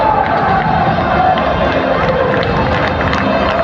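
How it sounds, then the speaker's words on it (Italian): A big crowd at San Siro stadium roars and claps for Udinese taking the field before a match against Milan, a continuous, dense wash of noise with a sustained chant or song rising above the din. "Adesso si sentono gli applausi"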